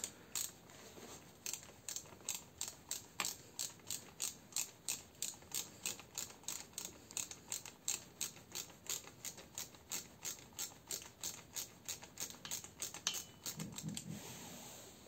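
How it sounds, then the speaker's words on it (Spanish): A ratchet wrench loosens an alternator bolt on a Nissan Tiida, giving a long run of quick, evenly spaced clicks close by, with no talk. "aflojan y retiran este cuarto tornillo del alternador"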